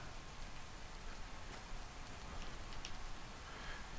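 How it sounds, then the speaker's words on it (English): Steady rain patters on a surface in the video game DayZ, a soft continuous hiss with scattered drops, fairly quiet and unbroken by voices. "This rain is a real bummer."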